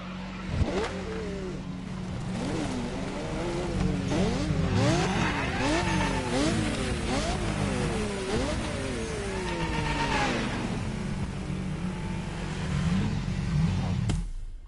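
Racing car engines in The Crew Motorfest, set in Hawaii with cars such as a Ferrari FXX-K Evo, rev and climb through repeated gear shifts over a steady loud drone, with brief tire squeal, and no talk.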